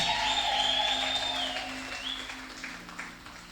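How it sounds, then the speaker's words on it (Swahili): A church congregation bursts into sustained clapping with a shrill ululating trill riding above it, the ululation cutting off near the end as the applause fades. "Pete na Yesu makofi na vigeregere."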